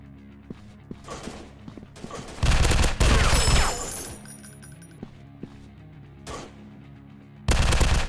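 Bursts of automatic gunfire from an Android FPS robot shooting game set in a counter-terrorist mission, loud sustained volleys with brief single shots and metallic clinks between them.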